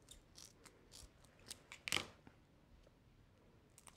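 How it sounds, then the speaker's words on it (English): Scissors snip through a strip of sticky-back Velcro: faint, quiet cutting with one sharper, louder snip midway and light handling noise around it, with no talking. "Cut this long ways."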